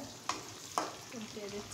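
Hilsa fish frying in a pan, a steady sizzling hiss with two sharp scraping clacks from a spatula moving the soft fish, close and alone.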